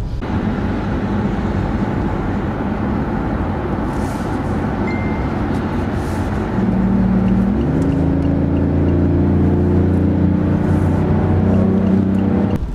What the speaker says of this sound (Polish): Automatyczna skrzynia biegów zrzuca jeden piek, bieg niżej aby trzymać obroty silnika spalinowego w wyższym zakresie.